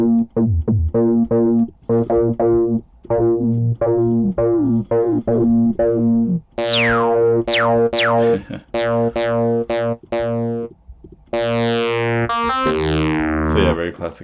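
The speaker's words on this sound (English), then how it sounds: "So yeah, very classic FM sound," A classic FM synthesizer tone played in a string of short, bright, bell-like notes, with some pitch-swept zaps and sliding tones near the end, loud and dry with no talking.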